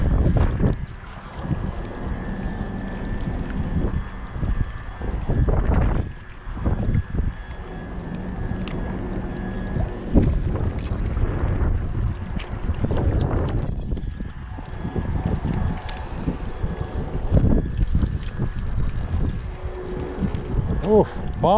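Wind gusts rumble across the microphone while fishing from a boat, a continuous blustery roar with low buffeting throughout, under occasional talk and small reel and water sounds.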